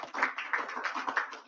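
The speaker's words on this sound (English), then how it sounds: "please, another round of applause" Sparse applause from a small audience at an election results announcement in Nigeria, a few uneven claps in short bursts, fairly close and moderate in volume with no talk over it.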